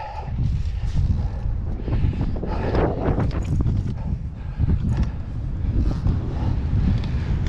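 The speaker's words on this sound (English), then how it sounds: "Look, it's windy." Strong wind buffets the microphone on a mountain trail during an electric mountain bike ride, producing a constant loud rumbling roar with uneven gusts and no talking.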